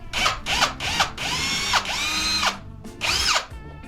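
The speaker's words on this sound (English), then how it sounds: "I'm going to drill the 3 rivets out and just see what it does." A power drill whines through several short bursts and a few longer runs, drilling out rivets on a Ford F100 truck steering column, its pitch rising and falling as it bites into metal, loud and close.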